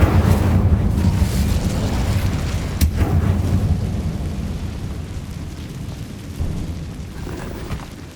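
An Incendio fire spell erupts in Hogwarts Legacy with a loud, roaring whoosh of flame and a deep rumbling burst, then a sharp crack, before the fiery roar slowly fades out.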